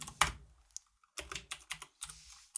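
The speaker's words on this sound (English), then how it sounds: "We can type console.writeLine" Someone types code on a computer keyboard, with a few sharp, close key clicks in a quick, uneven burst, then brief silence and another cluster of taps.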